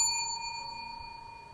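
Notification bell chime sound effect, a single bright metallic ding that rings out clearly on its own and slowly decays over about a second and a half.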